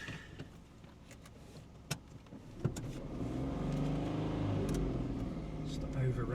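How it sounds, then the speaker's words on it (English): A car engine revs hard and sustained with a rising, strained roar near a roadside on the Isle of Wight, following a few sharp clicks and knocks, with voices faintly present. "Stop over revving, Steve."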